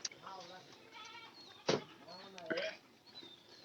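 A goat bleats in short wavering calls, fairly close but not loud, while people speak nearby on a farm.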